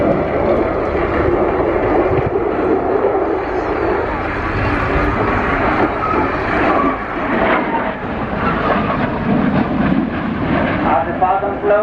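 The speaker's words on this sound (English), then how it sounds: "As the Falcon slows down to approximately 120 knots, it will pass above the soul center at a high angle of attack" A Falcon business jet making a slow, high angle-of-attack pass at the RIAT air show, a loud sustained engine roar with wind buffeting, under an announcer's commentary.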